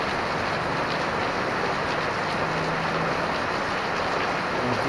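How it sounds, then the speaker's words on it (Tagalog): Heavy rain pours down steadily in Baler, a dense, even hiss with no breaks and no voices, loud and close throughout. "sobrang lakas ng ulan dito sa Baler."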